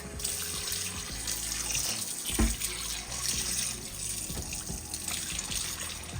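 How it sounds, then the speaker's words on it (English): A kitchen tap runs in a steady close stream, with faint splashing as catfish fillets are rinsed under the water. "I've gotten some catfish fillets from my local fish mart, and I'm gonna rinse them off."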